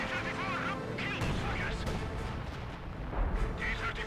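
Artillery fire in Company of Heroes 2 rumbles as dense, continuous battlefield booms and crashes, heavy and steady throughout, with a voice talking over the din.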